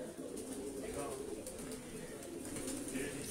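Breeder pigeons coo softly in a loft in Lahore, low murmuring calls repeating under a faint background hiss, fairly distant and quiet.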